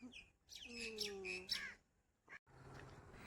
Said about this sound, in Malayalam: ഇവിടെ മൊത്തം പക്ഷികളാണ് കേട്ടോ അതെ പ്രാവാണ് ഇരിക്കുന്നത്